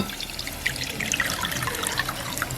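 Water trickles and pours steadily into a cooking pot while making a Jaffna-style long tom fish curry, a continuous close splashing flow with no voices.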